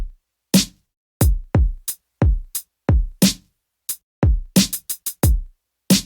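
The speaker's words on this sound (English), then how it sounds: "So without the cymbals, it sounds like this so we can hear it a little bit better." Sparse drum pattern built in FL Studio for a classic rap beat, with punchy kicks and snappy snares and a few short closed hi-hat ticks, cymbals left out; irregular hits separated by silence.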